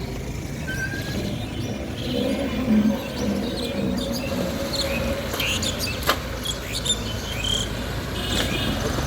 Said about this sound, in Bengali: এদিকে আসলে অনেক পাখির কিচিরমিচির শুনতে পাবেন।